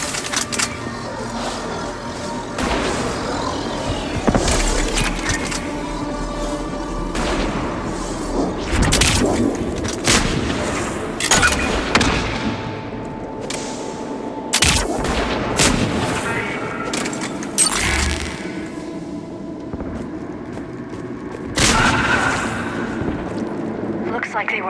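Sniper shots and heavy gunfire in Mass Effect 3 boom repeatedly in a loud, chaotic firefight, with voices talking over the blasts.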